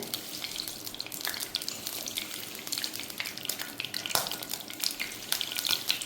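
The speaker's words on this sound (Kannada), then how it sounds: "ಪಲ್ಯಕ್ಕೆ ಒಗ್ಗರಣೆ ಇಡುವ." Mustard seeds sizzle and crackle in hot oil, tempering for a snake gourd palya, with a dense steady hiss broken by sharp little pops, close and continuous with no talking.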